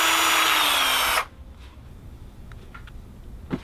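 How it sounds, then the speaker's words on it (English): A power drill whines loudly for about a second, then stops, followed by a few faint clicks and handling noises. "Let me get a drill."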